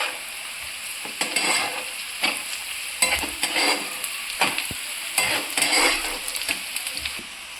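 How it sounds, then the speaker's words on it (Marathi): Onion frying with salt in a pan, a steady close sizzle broken by repeated scraping stirs of a spatula against the pan, with no talking. "मी थोडं मीठ ऍड करते कांदा लवकर फ्राय होण्यासाठी"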